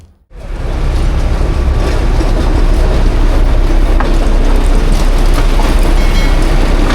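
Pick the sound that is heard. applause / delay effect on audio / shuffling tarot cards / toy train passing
toy train passing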